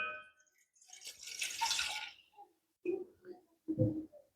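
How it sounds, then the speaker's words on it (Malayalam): A cup of water is poured into a pot, giving a short, close splashing pour followed by a few brief trickles and drips, with no talking. "ഒരു കപ്പ് വെള്ളം നമ്മൾ ഒഴിച്ചു കൊടുക്കുന്നുണ്ട്"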